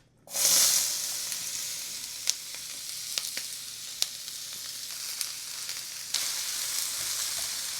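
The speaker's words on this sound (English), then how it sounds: "in the next pan over, we got the turkey going. Oh yeah, listen to that sizzle" Loud, steady sizzling of ground turkey frying in a hot pan, with occasional sharp clicks and scrapes of stirring throughout.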